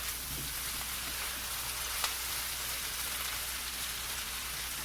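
A keto pork chop dinner cooking in a pan gives off a steady, soft, even sizzle that stays at the same level throughout, with one faint click partway through.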